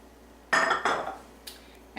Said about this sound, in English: we're going to go ahead and put these into the mortar and pestle